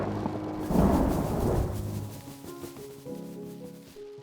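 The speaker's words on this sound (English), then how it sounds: "It was thunder." A deep rumble of thunder rolls in, swelling to a heavy low boom near the start before fading into a lingering, grumbling tail, loud and unaccompanied by voices.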